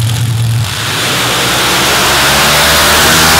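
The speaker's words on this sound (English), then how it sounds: "Going up against the 500 cubic inch Allen Johnson performance engine of Joel Coolidge." A 500 cubic inch Allen Johnson performance drag racing engine at a drag strip, a loud low roar that shifts into a rising, sustained high-pitched scream as the car launches, with no voices.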